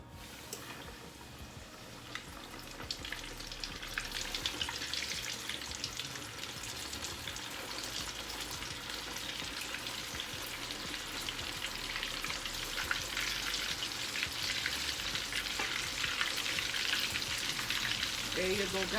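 Chicken pieces for a Jamaican KFC-style BBQ chicken fry in hot oil in a Dutch pot, with a dense, continuous sizzle and crackle that builds slightly louder over about nineteen seconds.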